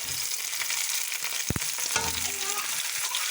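Tomatoes and green chilies hit frying chicken karahi in a hot pan, giving steady sizzling and frying hiss with a brief clatter and stirring sounds, moderately close.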